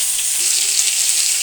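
Drumstick pods and vegetables fry in a pan, a close, steady, loud sizzle with faint stirring, heard alone with no talking.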